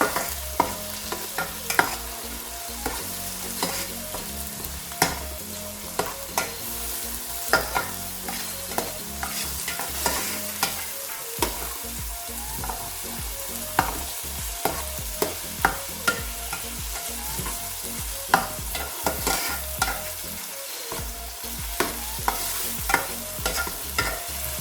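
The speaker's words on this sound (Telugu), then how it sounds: "ఇలా టమాటాలు, కొత్తిమీర, పుదీనా వేసాక మళ్ళీ ఒక 3 మినిట్స్ వేయించుదాము" Tomatoes, coriander and mint frying with onions in a pan, stirred with a utensil that scrapes and knocks rhythmically over a continuous sizzle, close and fairly loud, no talking.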